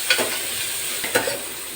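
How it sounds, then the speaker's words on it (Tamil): Big onions sautéing in a pan, a steady soft sizzle with a couple of brief stirring scrapes near the start and middle, close and moderately loud. "பெரிய வெங்காயம் மட்டும் தான் போடுறேன்"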